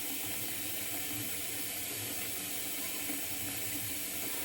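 Tap water runs continuously onto a shaving brush at a sink, a steady splashing hiss at moderate volume with no talking.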